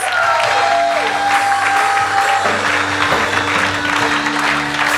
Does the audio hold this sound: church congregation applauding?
yes